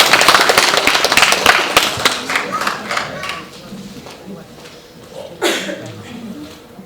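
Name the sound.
audience applause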